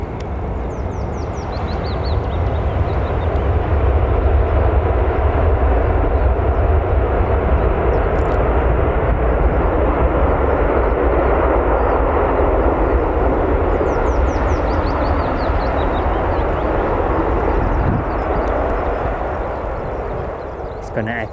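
An airliner rolls out on the runway at Newcastle Airport after landing, giving a sustained, broad roar of engine and reverse thrust that swells and then gradually fades while a commentator talks over it.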